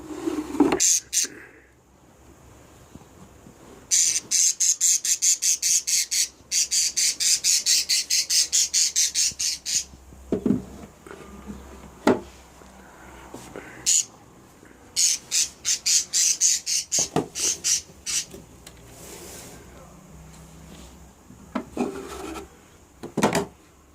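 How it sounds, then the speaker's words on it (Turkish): Budgerigars squawk during nest box cleaning, with bursts of rapid, shrill chattering calls broken by pauses, scraping and wooden knocks close by. "Bugün e, muhabbet kuşlarımızın yuvasını temizleyeceğiz."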